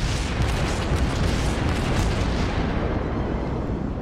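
Enemy ship gunfire from a St. Louis cruiser in the naval game World of Warships rumbles as a dense, continuous barrage of booming shots and blasts, loud and close, then fades slightly toward the end.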